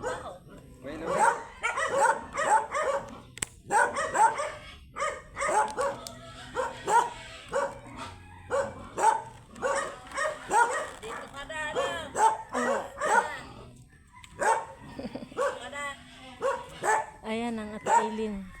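Dogs bark in bursts throughout in Batangas, sharp barks and yips overlapping, with people talking nearby and occasional whimpering.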